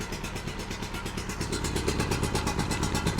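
A faulty generator engine idles steadily while warming up on choke, with a close, loud, rapid rhythmic chugging and rattling that holds constant throughout.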